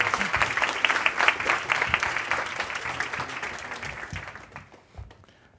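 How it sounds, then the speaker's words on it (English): Audience at an evening office gathering applauding a speaker, a dense burst of many hands clapping that gradually thins and dies away over several seconds. "can I please get a round of applause for Annabelle?"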